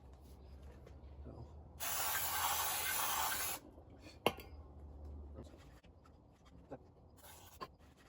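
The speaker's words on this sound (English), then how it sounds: "I want to clean out the brake drum with some brake cleaner." Brake cleaner sprayed onto a chopper motorcycle's brake drum: a single steady hiss lasting nearly two seconds, close and fairly loud, followed by quiet workshop handling noises and a few small knocks.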